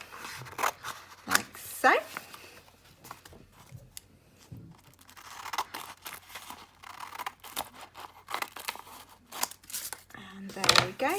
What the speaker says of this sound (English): So cut the design out